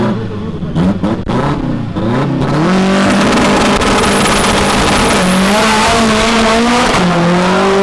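A Volkswagen Gol 4x4 accelerates hard, its engine revving loud and close with rising pitch through gear changes and a brief tire squeal near the start, running alone throughout.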